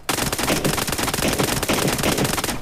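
Rapid automatic gunfire from a low-recoil gun in PUBG Mobile, a dense unbroken burst of sharp shots rattling for over two seconds before cutting off.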